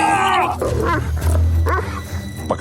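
A large black dog barks and snarls during an attack on a man, with loud harsh growling bursts over a low rumbling bed, dramatized in a horror story setting.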